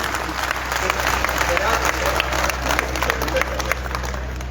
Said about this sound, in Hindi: एक बार तालियां बजा दे मैं रंग में आ जाता